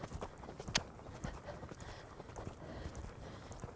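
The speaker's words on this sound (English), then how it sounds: "Canter." A horse cantering in an arena under a rider, its hoofbeats thudding in a steady rolling rhythm at moderate distance, fairly soft and continuous.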